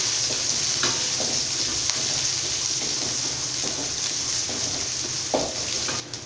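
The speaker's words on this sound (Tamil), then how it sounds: "இப்போ இது எல்லாத்தையும் சேர்த்து நம்ம வதக்கி விட்டுக்கலாம்." Curry leaves and spices sautéing in a pan for a village-style drumstick poricha kuzhambu: a steady, fairly loud hiss broken by occasional brief scrapes of stirring.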